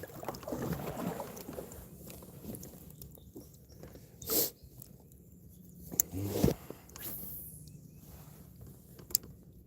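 A kayak is paddled on Lake Wilhelm while fishing, with a few soft splashing strokes and knocks against a quiet background of faint wind buffeting the microphone.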